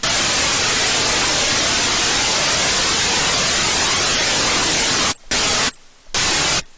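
Static-like white noise riser built in Ableton with distortion and reverb, a dense hiss filling the whole range that holds steady for about five seconds, then cuts out in abrupt gated bursts near the end.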